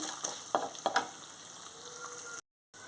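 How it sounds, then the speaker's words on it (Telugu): Moong dal fries in a pan with a bright, steady sizzle and a few scraping stirs early on, then a brief dropout of silence before the hiss returns. "ఇప్పుడు పెసరపప్పు వేసుకొని వేపుకోవాలి. ఇది కూడా దోరగా వేగాలి."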